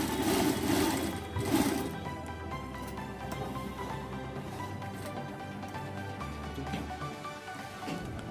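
A sewing machine stitches fabric for a frock, running in a fast steady mechanical chatter with a faint whine, starting loud and settling into a quieter continuous hum.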